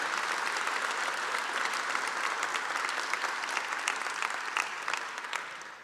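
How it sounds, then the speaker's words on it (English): An audience at an evening awards ceremony for National Small Business Week at the Smithsonian American History museum applauds, a dense, sustained wash of many hands clapping that holds steady and then tapers off near the end. "let's give everyone a round of applause"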